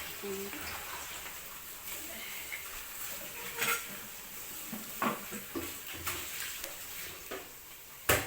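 Onions sauté in a pan with Arab rice spices in a Malaysian home kitchen, a soft steady sizzle and frying hiss broken by a few sharp utensil scrapes and clinks, with a voice speaking quietly under it.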